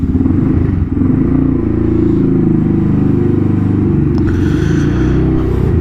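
A Honda Grom motorcycle fitted with a Chimera cold air intake, riding with a loud, steady engine drone and rumble close by, with some wind noise and no talking.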